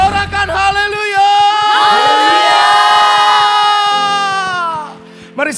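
A church congregation cheering, whooping and shouting in praise to God, with a loud sustained crowd roar and rhythmic clapping underneath that fades near the end.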